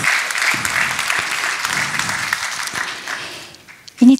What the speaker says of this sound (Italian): vorrei rivolgere un applauso a tutti loro prima che salgano sul palco e